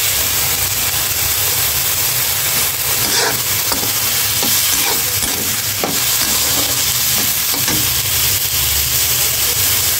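Winter vegetables sizzle in oil in a pan with a little turmeric, a constant loud frying hiss broken by repeated scrapes and clinks of a utensil stirring, close up with no voices.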